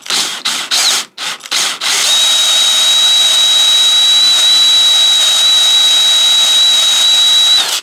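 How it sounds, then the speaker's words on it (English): A power drill bores steadily into a wooden tripod handle after a few brief starts, then holds a constant high-pitched whine close by for several seconds. "I'm now going to start drilling."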